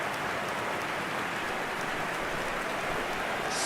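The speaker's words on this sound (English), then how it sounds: "with or without the rain" Steady, dense rain pours down on an eFootball video game stadium, a continuous loud hiss with no breaks and no voices.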